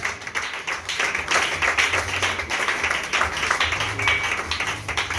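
A church congregation claps and applauds in worship of Jesus Christ: loud, continuous, fairly rhythmic clapping from many hands, close and full, with little talk.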